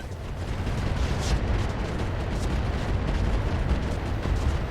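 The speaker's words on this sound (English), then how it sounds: "Oh, straight up a kill. LRM ammo explosion." A missile ammunition store detonating inside a giant combat mech in the RogueTech mod of BattleTech roars as a loud, sustained rumbling blast with crackling bursts, filling the whole stretch without a break.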